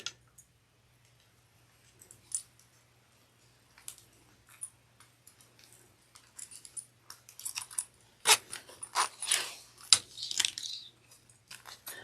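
Metal zipper pulls are fed onto a zipper for a simple sling bag, giving faint, sparse clicks that turn into quicker, louder clatters and rattles toward the end.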